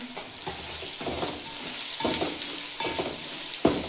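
Coriander and mint hit a pan of fried ginger paste and onions, sizzling steadily while a spoon scrapes and stirs in repeated strokes, close and moderately loud with no talk.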